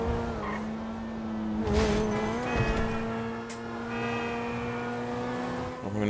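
A tuned car's engine in GTA 5 hums steadily with shifting revs and a brief tire squeal, heard close and fairly loud throughout with no talk.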